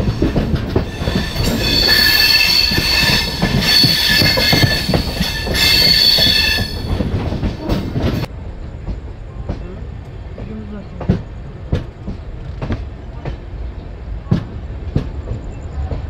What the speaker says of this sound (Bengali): রাত 8:30টার সময় ধীরে ধীরে ট্রেন এনজেপি স্টেশন এন্টার করছে।